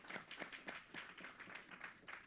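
Quiet, evenly spaced applause at a campus free speech talk, a few hands clapping in a steady rhythm of about four claps per second, faint and alone with no speech.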